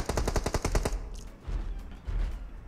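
Video game gunfire rattles out in a rapid automatic burst of about ten sharp shots, followed by a couple of heavier, muffled booms after a brief pause, all loud and close.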